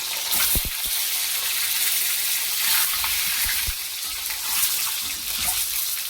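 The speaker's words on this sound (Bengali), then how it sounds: "তেল দিয়ে দিয়েছি, ডিম দিয়ে দিচ্ছি" An egg sizzles and crackles in hot oil, a steady frying hiss punctuated by a few soft knocks from the pan.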